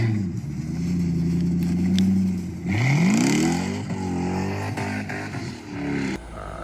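A 1999 Jaguar XJR's engine runs steadily for several seconds, a close, loud, low hum with a rising rev partway through, and no one speaks.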